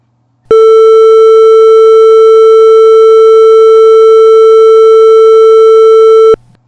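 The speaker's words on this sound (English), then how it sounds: "It again runs for 3 seconds and the buzzer will be turned on." A microwave oven buzzer sounds as one loud, steady electronic tone held for about six seconds, then cuts off abruptly into silence.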